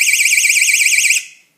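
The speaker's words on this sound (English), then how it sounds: "this is a street power alarm" A street power alarm used to signal when mains power returns to a house running on a generator sounds a loud, continuous warbling electronic tone at close range, then cuts off and fades away.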